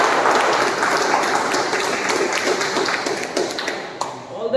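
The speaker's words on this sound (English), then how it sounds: "huge round of applause for all that" Toastmasters club meeting audience applauding together, a dense steady wash of clapping that thins out toward the end, with faint voices underneath.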